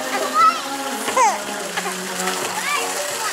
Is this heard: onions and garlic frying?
no